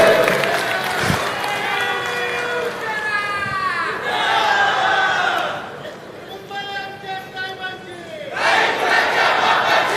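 A rally crowd of Mahim supporters roars and cheers loudly throughout, with rising and falling shouts, whistles and chanting voices layered over one another, swelling again strongly at the end.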